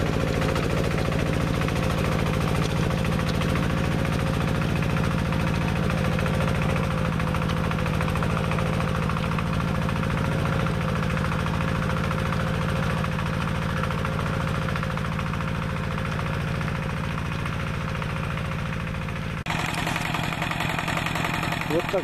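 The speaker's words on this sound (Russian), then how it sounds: "Ну а теперь предстоит поработать трактором с плугом." A homemade mini tractor's engine runs steadily with a plough attached, a continuous chugging drone throughout with a slight change in tone near the end.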